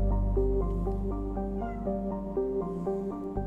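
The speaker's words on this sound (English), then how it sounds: "there's a very happy cat that you're going to hear in the background" A cat meows in a drawn-out, tonal cry that rises and falls, heard over a loud steady low drone from a Mass Effect 2 game session, with no talking.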